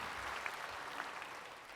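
Church congregation applauding in a sanctuary, a steady, moderately distant wash of clapping that holds evenly for a couple of seconds without speech.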